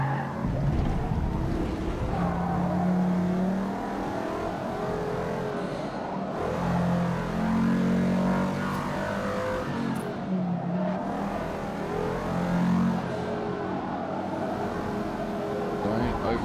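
Race car engines in Forza Motorsport (2023) rev and accelerate loudly throughout, with gear changes, tire squeal and skids, while someone talks over the game sound.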